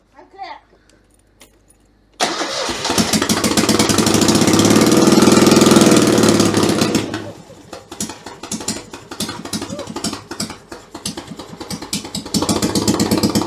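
A Citroën 2CV with a swapped engine catches after a squirt of carb cleaner, roaring loudly with too much choke, then settling into an uneven, knocking idle, with people speaking nearby.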